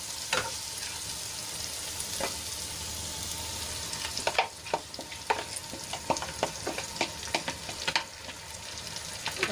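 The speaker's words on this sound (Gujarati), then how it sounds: "પેસ્ટને સરસ રીતે ડુંગળીમાં મિક્સ કરી લઈશું" A spice and yogurt paste is stirred into sizzling onions in a pan. Steady frying hiss runs under repeated scraping strokes from the spoon, which grow busier and more rhythmic in the second half. Nobody speaks.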